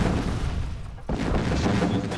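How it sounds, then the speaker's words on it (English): Heavy gunfire in a video game battle, a dense continuous barrage of shots and booms, loud and close, with a brief dip before the firing resumes. "I'm taking heavy fire."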